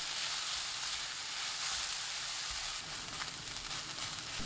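Cucumber stir-frying in a pan over high heat, a continuous soft hiss and sizzle with faint stirring movement throughout, no one speaking.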